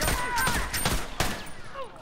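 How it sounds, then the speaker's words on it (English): Rapid gunfire in a video game firefight, dense bursts of shots crackling one after another with a loud hit near the middle, under players' voices. "Keep shooting, Tony. Keep"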